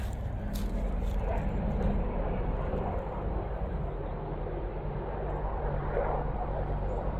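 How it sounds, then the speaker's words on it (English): Low, steady rotor and engine rumble from military helicopters flying overhead, continuous and fairly loud with a broad droning wash throughout. "Oh, we got military helicopters."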